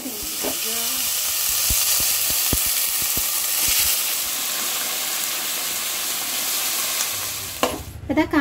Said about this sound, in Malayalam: എണ്ണ ചൂടാണ സമയത്ത് അതിലേക്ക് കുറച്ച് കടുക് വറുത്തിടാം